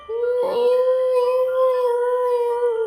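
A swamp ape cryptid gives a sustained, eerie howling call, a rising wail that holds steady for a few seconds, close and loud against a quiet background.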